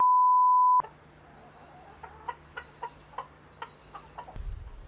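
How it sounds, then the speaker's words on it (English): Hens cluck in short, evenly spaced bursts at moderate distance after a brief electronic tone, with a low steady hum underneath. "After only one day back in the house, the hens turned on Roger again."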